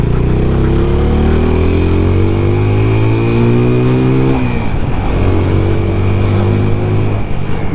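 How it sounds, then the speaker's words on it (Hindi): A TVS Apache RTR 200 4V motorcycle's exhaust drones loudly while riding, its pitch climbing through a rev, dropping on a gear change and rising again, with steady wind rush throughout. "भाई अपाचे का एग्जॉस्ट नोट दे रहा है यार, बहुत ही खतरनाक लग रहा है।"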